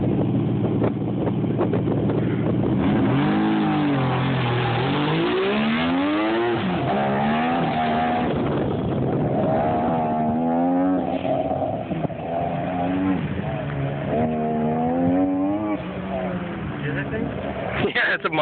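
A turbocharged Mazda RX7 accelerates hard at an autocross event, its engine note rising and falling through repeated revving sweeps with wind buffeting across the microphone and people talking over it.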